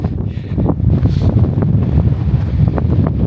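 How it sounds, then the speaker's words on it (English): Freezing wind buffets the microphone on a cloudy mountain summit at Shipka/Buzludzha, Bulgaria, a loud, gusty roar with low rumbling bursts and no voices. "Let me get myself out of the wind"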